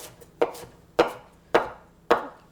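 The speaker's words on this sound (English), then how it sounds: "hold it there so I can roughly chop it this way" A knife chopping cilantro on a cutting board, four evenly spaced crisp chops close by, about half a second apart.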